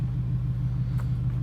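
A Chevy Caprice with new brakes and Viking coilovers rolls down the street, its engine a deep steady rumble close by, with no voices.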